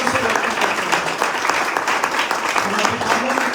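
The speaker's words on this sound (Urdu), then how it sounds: "سب اپنے قدموں پر کھڑے ہو جائیں اور خدا کے خادم کو زوردار تالیوں سے" A church congregation welcomes a visiting bishop with loud, sustained applause. The clapping is dense and continuous throughout, close and filling the room.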